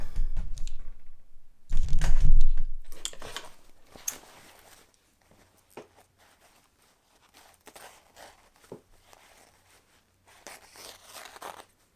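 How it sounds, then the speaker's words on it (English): Embroidery stabilizer being cut away from fabric on a Janome 500E single-needle machine project: crunchy snipping and rustling up close for the first few seconds, then only sparse faint clicks and handling noises. "I'm going to go ahead and cut the stabilizer off."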